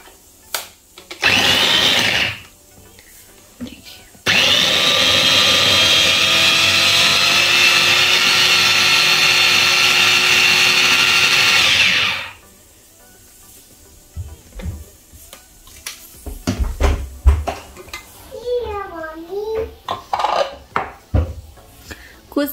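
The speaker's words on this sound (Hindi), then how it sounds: "आज मैं फर्स्ट डे से इलेक्ट्रिक चॉपर को यूज करने वाली हूँ" An electric chopper whirs through large onion pieces, a loud motor burst of about a second, then a sustained grinding run of roughly eight seconds, followed by clattering and handling of the bowl and lid.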